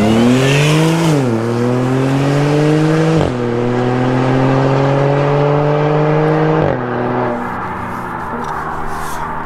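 Audi S4 with an APR tune, supercharger and Milltek exhaust, heard from outside as the engine revs loudly through several rising gear pulls, steady and close with no talking.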